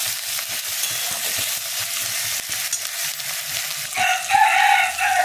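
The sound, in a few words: spice paste (masala) frying in oil, stirred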